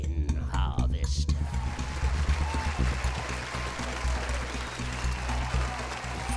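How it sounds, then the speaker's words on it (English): Audience applauding a special guest, a sustained, evenly dense clapping from a sizeable crowd that starts at once and keeps going at steady strength, with a deep low rumble underneath. "A big round of applause for Nitya Logan Harvest"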